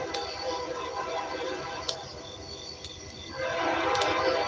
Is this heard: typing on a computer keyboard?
no